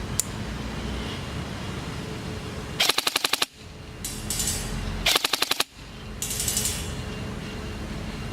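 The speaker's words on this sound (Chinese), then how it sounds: "现在测试连发。" An airsoft rifle with a modified T-HOP and HS+ barrel fires two bursts of full-auto BB shots outdoors, each a rapid, loud, evenly spaced rattle lasting about half a second and separated by quieter outdoor ambience.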